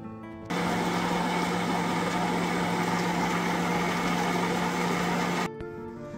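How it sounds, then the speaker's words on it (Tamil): A stand mixer beats margarine and sugar for a Tamil eggless fig cake, switching on abruptly into a steady, loud motor whir that holds evenly for about five seconds before cutting off sharply. "இவ்வளத்தையும் போட்டு ஸ்டாண்ட் மிக்சரில் பீட் பண்ணி எடுக்கிறேன்"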